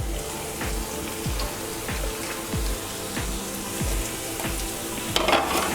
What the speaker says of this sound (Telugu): ఇప్పుడు కట్ చేసి పెట్టుకున్న క్యాప్సికమ్, బీన్స్, చిల్లీస్ లైట్గా ఫ్రై చేసుకోవాలండి.